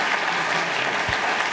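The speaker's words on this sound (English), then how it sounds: "Let's give them a big round of applause for a wonderful job." Brief burst of audience applause for panelists after an evening discussion, a thick steady roar of clapping heard up close with a single low thump partway through.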